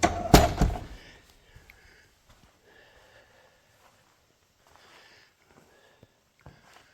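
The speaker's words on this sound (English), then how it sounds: "Very heavy door." A heavy, narrow door of a 13th-century church swings and closes with a loud thud near the start, followed by quiet shuffling and faint knocks.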